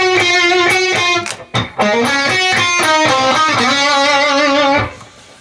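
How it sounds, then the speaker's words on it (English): Electric guitar on the neck pickup plays two-note double stops from a lick, with loud, sustained, slightly overdriven phrases, a brief pause, then a ringing final bend that fades out. "the double stops definitely sound better on the neck pickup"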